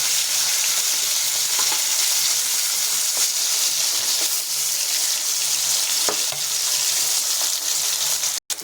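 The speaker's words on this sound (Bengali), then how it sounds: "আমি তো মাছ কড়াই ভাজি।" Fish frying in hot oil in a wok, a steady loud sizzle with bright crackling spatter running throughout, punctuated by occasional sharp pops and a final clack near the end, with no talking.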